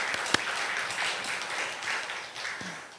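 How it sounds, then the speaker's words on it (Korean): Church congregation applauding during a Sunday afternoon service, a brief burst of steady clapping that swells and slowly fades over about three seconds, moderately distant. "건강해지셔서 하나님께 영광의 박수를 올립니다"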